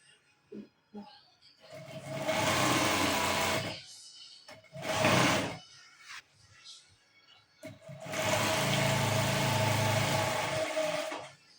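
An electric sewing machine stitches an African print tote bag in three runs: a long steady whirr, a short burst, then another long stretch. Quiet gaps separate the runs, with small handling noises.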